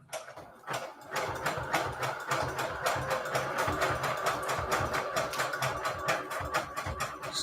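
A sewing machine runs steadily down the center fold of a junk journal signature, its rapid needle strokes forming an even mechanical chatter that starts after a brief pause and keeps a consistent rhythm up close.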